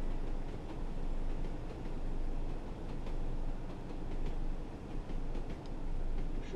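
A diesel railcar train in a video game, a BR Class 101 on the Tees Valley Line, rumbles steadily at a constant low drone, engine and wheels blending into a continuous heavy hum with no voices.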